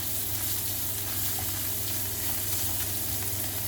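Steady sizzling of tomato paste sautéing in a hot pan, a continuous soft crackle with no voices.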